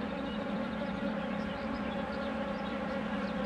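Scout honeybees swarming around an old-framed nucleus hive at the foot of a tree, giving a steady, dense droning hum that stays close and continuous throughout, with no talking.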